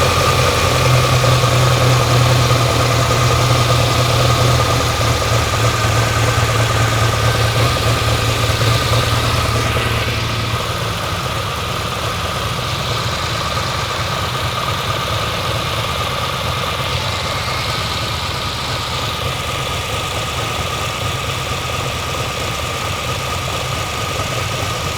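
A 1964 Ferrari 250 Lusso engine on Weber carburetors idles steadily and close by, a continuous even rumble that softens slightly partway through, with no one talking.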